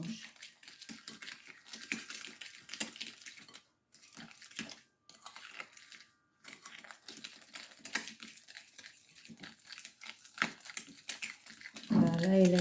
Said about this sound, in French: je mets le jaune dans le sucre et le beurre et je mélange